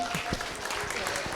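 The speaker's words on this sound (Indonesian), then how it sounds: "Tepuk tangan dong buat gurunda kita" Audience applause for a teacher at a business owners' seminar, a dense wash of clapping from a crowd mixed with murmuring voices, steady for the whole moment.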